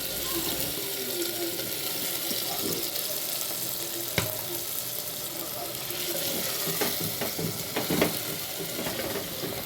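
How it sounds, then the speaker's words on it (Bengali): Fried chicken tipped into a spice masala sizzling in oil in a clay pot, then stirred: a steady broadband fry hiss with a few sharp clatters and scrapes of the spoon near the mic, no talk. "এবার দিয়ে দিচ্ছি ভাজা চিকেনটা"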